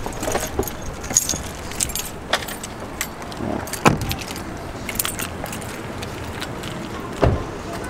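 Car keys jangling beside a car, scattered metallic clinks and rattles on and off over several seconds against steady low outdoor background noise.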